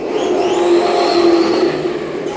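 Electric RC car with a 2700kv motor on a test run, a continuous high whining motor buzz with slight pitch changes, fairly close and steady throughout.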